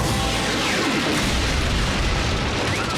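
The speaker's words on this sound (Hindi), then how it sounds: "फायरिंग जारी रखो।" Cartoon battle from Transformers Prime, with booming explosions and gunfire fused into a dense, loud, continuous roar that never pauses.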